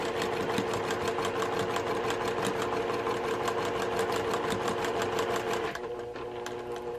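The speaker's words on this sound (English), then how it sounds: "I just go slowly, guiding my presser foot along that line, so I'm stitching a 1/4 inch away" A sewing machine stitches a quarter-inch seam on a quilt block at a steady rapid clatter, close and continuous, easing to a softer hum near the end, with no talking.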